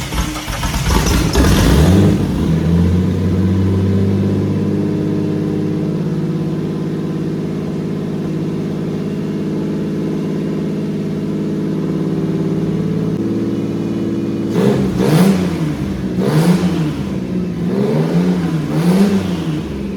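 A methanol-fuelled speedway race car engine fires up and runs loud and close, settling into a rough steady idle before several sharp revs that rise and fall near the end.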